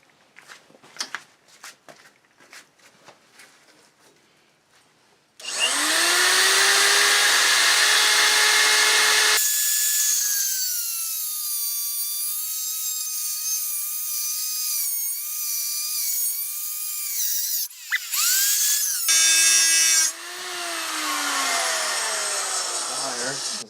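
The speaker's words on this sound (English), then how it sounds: "I think the grinder will do quick work of that" An angle grinder cuts into a front motor mount brace on a WR250E. Faint taps come first, then a loud, close, sustained grinding whine that shifts in pitch, breaks off briefly, and resumes to the end.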